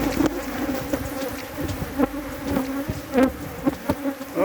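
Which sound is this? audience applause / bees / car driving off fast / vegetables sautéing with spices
bees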